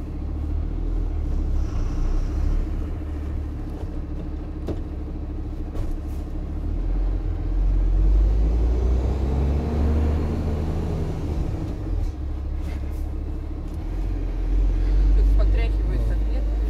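A Ural NEXT 6x4 truck drives with a heavy, steady low engine rumble heard from inside the cab, swelling slightly as it pulls, with people talking over it.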